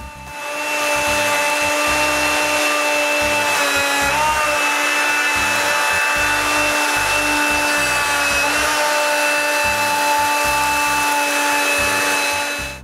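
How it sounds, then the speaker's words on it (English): Router cutting a groove in wooden interior door stock, a loud, steady high-pitched whine held constant for the whole stretch with only slight dips in pitch as it feeds. "Then I can route the groove to its final depth of half an inch."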